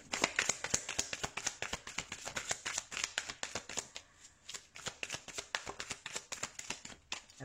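Tarot cards are shuffled close up in a rapid, steady run of crisp riffling snaps, briefly pausing midway before resuming, with no talking.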